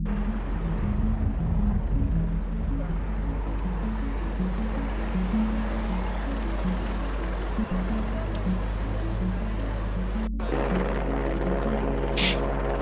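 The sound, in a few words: helicopter flying overhead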